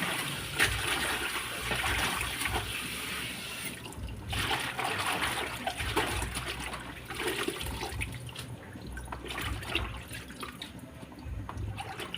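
Vegetables are rinsed in water, with steady running and splashing water, a few brief pauses and clinks, and continuous close liquid sound with no talking.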